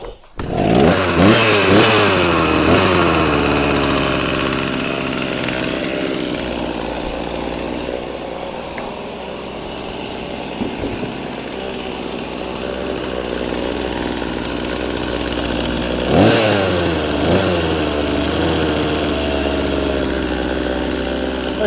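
A Husqvarna chainsaw runs close by in the cold, its engine revving up and down in rising and falling sweeps before settling into a steady run, with another rev-up near the end.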